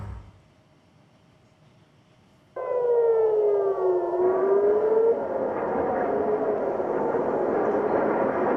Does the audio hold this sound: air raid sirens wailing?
yes